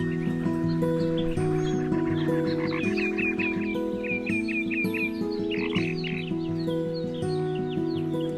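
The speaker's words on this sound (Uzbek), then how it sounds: "4 ta qurbaqani ovozi bo'ldi. Endi eshitib ko'ramiz." A frog-croaking sound effect, added four times in the CapCut editing app, repeats as a series of short, close croaks over a steady tonal background that stays loud throughout; nobody speaks.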